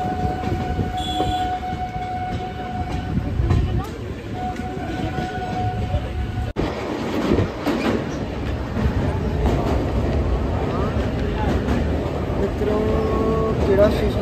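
A passenger train running between Jalandhar and Kapurthala rumbles on steadily with continuous rail noise, while people talk over it throughout.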